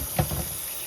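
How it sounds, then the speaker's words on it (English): Cold tap water runs briefly over cooked gluten-free noodles in a sink, a short close splash and gurgle lasting under a second. "We're just running some cold water"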